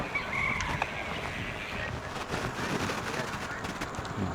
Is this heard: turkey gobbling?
yes